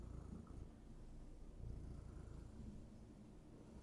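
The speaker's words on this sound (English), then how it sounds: "Or they're very excited to hear a cat." A cat purrs in a low, steady, rumbling rhythm very close, continuous and soft throughout with no talking.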